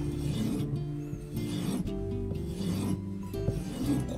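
A steel kitchen knife is stroked over a whetstone, producing continuous rhythmic rasping scrapes back and forth, close and fairly loud with no talking.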